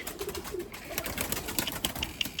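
Breeding pigeons in a loft cooing, soft low throaty coos repeating at close range amid faint rustling and flutters, fairly quiet.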